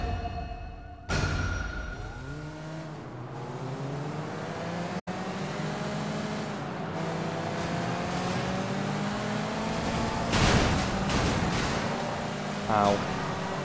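Cars roar through a street race in the video game Sleeping Dogs, with an engine revving in rising and falling sweeps, gear changes and a couple of brief sharp bursts near the end.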